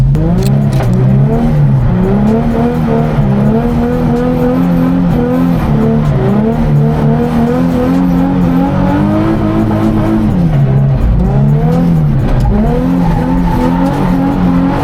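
A Nissan 350Z drifts, its engine revving in long rising and falling sweeps under loud, continuous tire squeal, close and sustained throughout.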